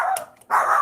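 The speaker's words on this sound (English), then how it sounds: "That's my dog." A dog gives two quick, loud barks close by, the first short and the second longer and fuller, with nobody talking.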